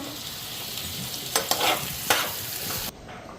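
Fish heads fry in a pan with a steady broadband sizzle, broken by a few brief louder scrapes or stirs near the middle before the sound drops away at the end.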